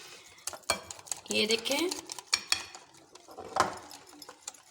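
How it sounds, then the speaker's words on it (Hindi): Chicken kabab mixture is beaten and mixed in a bowl, giving irregular scraping and clinking strokes of a utensil against the bowl, moderately close. A voice speaks briefly near the start. "इसको हमने अच्छे से इसको फेंटना है, अच्छे से हमने इसको मिक्स कर लेना है"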